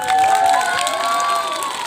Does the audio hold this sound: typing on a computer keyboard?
no